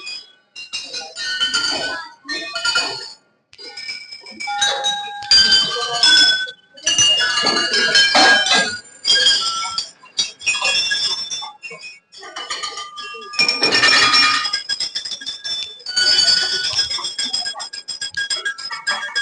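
Temple bells ring at Bakreshwar temple, with repeated metallic clangs and resonant tones in overlapping bursts and brief gaps, loud and close.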